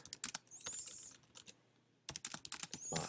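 Keys clatter on a computer keyboard in two quick bursts of typing separated by a short pause, close and fairly soft, with no one speaking.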